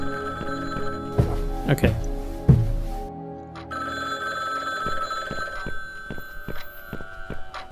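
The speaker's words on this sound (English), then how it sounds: "Let's pick up the phone." Telephone ringing in the horror video game Downfall, a repeated bell-like ring pulsing at steady intervals with a faint drone behind it, while a voice speaks briefly over it.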